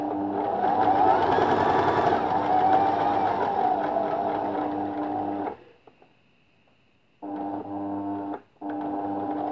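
A sewing machine stitches a seam in thick fabric with a 2.5 mm stitch, running in a loud steady whir for several seconds, stopping briefly, then making two short bursts of backtack stitches.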